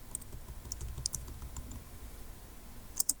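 Several quick key taps on a computer keyboard as a number is entered, soft and close, with scattered clicks and a brighter pair of keystrokes near the end over a low hum.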